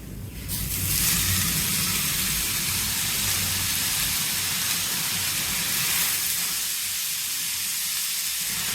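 Chopped tandulsa leafy greens frying in hot oil with turmeric, a loud, steady close sizzle that jumps up as the leaves go in and then holds a continuous hiss, easing slightly toward the end.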